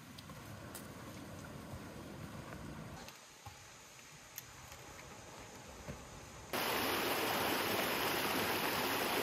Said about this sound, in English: So we've arrived, I believe, at the first of two waterfalls.